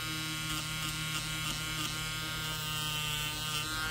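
Small Micro Mark electric power sander running continuously up close, a steady high-pitched buzzing motor drone with no talking.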